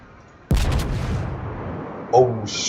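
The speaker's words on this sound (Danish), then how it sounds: "De her kanoner her, boom." Heavy battleship cannons of the German Grosse Kurfürst firing in World of Warships, a sudden loud boom followed by a long rumbling decay, with a second, smaller report near the end.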